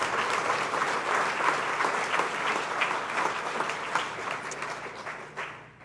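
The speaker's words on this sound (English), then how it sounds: "Let's give Adrienne a nice round of applause" An audience at an appreciation dinner gives a sustained round of applause for an honoree, dense even clapping throughout that thins and fades at the end.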